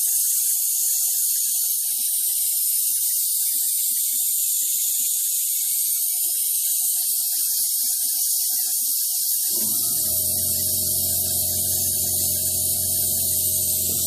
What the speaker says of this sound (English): Of course, my air compressor would kick on.